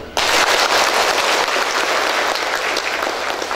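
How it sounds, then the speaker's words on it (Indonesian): An audience at a student motivational talk with a magic act breaks into applause, a loud, dense clatter of clapping that starts abruptly and carries on steadily to the end. "Tepuk tangan ikhlas semuanya"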